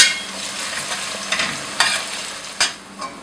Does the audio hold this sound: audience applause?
no